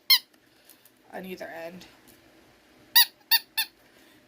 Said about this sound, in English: It squeaks.